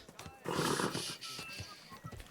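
A horse whinnies loudly in the video game Kingdom Come: Deliverance II, then hooves clop in a loose rhythm, with brief voices near the end.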